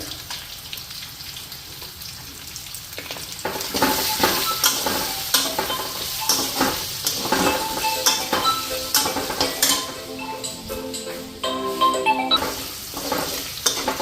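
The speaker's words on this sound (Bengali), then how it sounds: "তো এদিকে মশলাও ভাজা হয়ে গেল" Ground cumin and turmeric sizzle and crackle in a hot pan, with a spoon stirring and scraping intermittently; loud and close, no talking.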